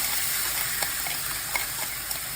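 Chicken momos frying in a pan of oil, a steady bright sizzle with small crackles and pops, close and continuous with no voices.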